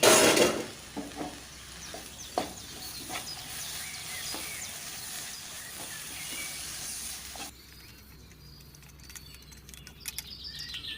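Mushrooms are stirred through a sizzling masala in a pan, a steady close hiss with soft scraping strokes that quiets partway through, with faint birdsong in the background.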